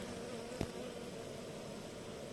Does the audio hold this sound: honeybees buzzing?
yes